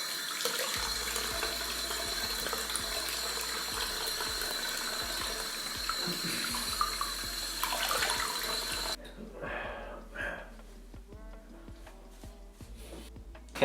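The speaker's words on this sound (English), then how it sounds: "Now we just got to rinse all this out and rinse out our head." Tap water pours steadily into a sink while a shaved head is rinsed, a close, continuous splashing rush that later turns thinner and more broken as the flow is interrupted, with no talk over it.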